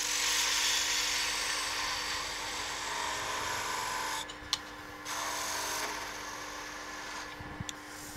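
Wood spinning on a lathe is cut with a gouge while shaping a darning mushroom, a continuous close rasping hiss over a steady motor hum, briefly easing off twice as the tool lifts.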